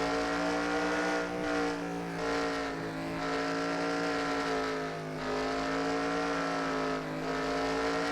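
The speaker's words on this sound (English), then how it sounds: "listen in as his throttle manages around this great big road course" A race car engine screams on a big road course in a sim race, a steady high-pitched whine that swells and dips slightly as the throttle is eased and reapplied through corners, loud and close throughout.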